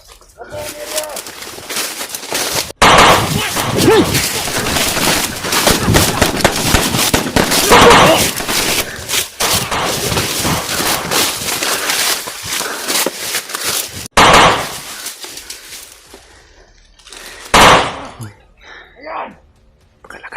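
Loud bursts of gunfire from a character's gun in a video game, sharp reports repeating in dense volleys with shouted talk over and between the shots, then a quieter stretch with a few scattered blasts.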